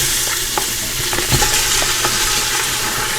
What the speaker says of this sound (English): Starting to get a little sizzle in there.